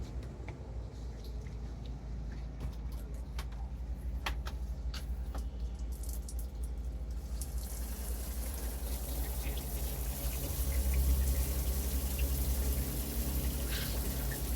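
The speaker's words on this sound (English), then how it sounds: "Hot water, cold water." Water runs from a faucet in an RV fed by its water pump, a steady broadband rush that thickens halfway through and swells louder near the end, with no talking.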